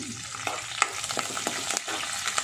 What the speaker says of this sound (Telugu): కరివేపాకు వేసేసుకున్నాం కదా ఇప్పుడు ఇది కొంచెం వేగగానే